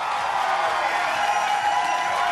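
A television game-show studio audience applauding, a steady dense wash of clapping with faint cheering that holds at an even level throughout.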